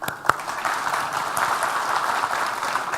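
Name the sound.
applause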